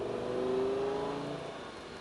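A Lamborghini Gallardo accelerates hard out of a corner on track, its engine note climbing steadily and loud and close, then easing slightly toward the end.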